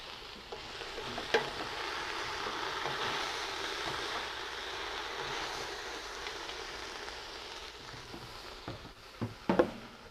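Food sizzling and being stirred in a covered pot on the stove, a faint, steady frying hiss with a few soft clinks and scrapes near the end.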